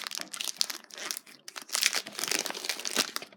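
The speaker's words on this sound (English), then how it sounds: "So, William just needs to rip these packs" Baseball card packs are ripped open by hand: loud, close bursts of crinkling foil wrapper and sharp tearing, coming in quick irregular handfuls with brief pauses between them.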